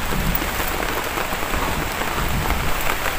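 Heavy rain pours steadily through a forest thick with trees, a dense, continuous hiss and patter close around the listener with no break across the whole stretch.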